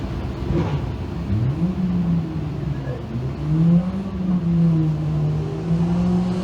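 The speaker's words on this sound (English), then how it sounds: "So Kevin Greenfield out of Watertown in the number 8D is your current race leader." Thundercar race cars accelerate around a track during a heat race, engines droning and revving with rising and falling pitch as they pass at moderate distance, with a faint announcer voice underneath.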